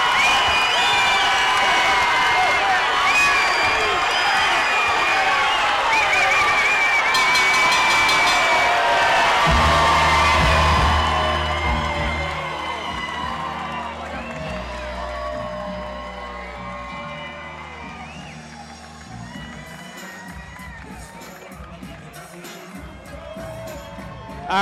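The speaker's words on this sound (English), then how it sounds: "the crowd is responding" A boxing crowd at a fight night cheers and whoops after the final round, loud and broad at first, then easing into a lower murmur while commentators talk over the fading noise.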